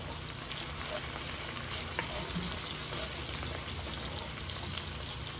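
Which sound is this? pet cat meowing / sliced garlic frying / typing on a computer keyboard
sliced garlic frying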